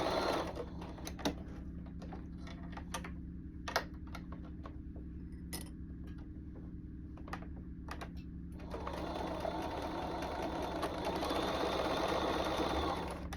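A sewing machine stitches through a cotton sweater with a steady close mechanical whir and rapid ticking, and it speeds up and grows louder toward the end.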